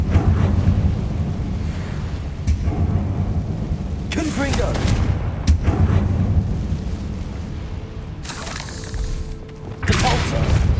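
Confringo spell explosions in the Hogwarts Legacy video game, several sharp blasts and crashes bursting over a dense rumbling game soundscape.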